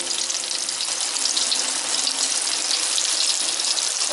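Tofu and tempeh deep-frying in hot oil give a continuous, even, bright sizzling hiss, close and steady with no talk.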